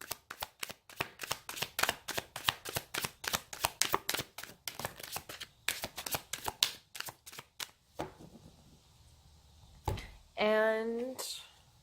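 Tarot cards being riffled and shuffled, then one card pulled from the deck: a long run of quick, crisp, rhythmic card flicks up close, followed by a softer slide and a brief voice at the end.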